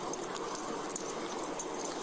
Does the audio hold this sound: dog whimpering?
yes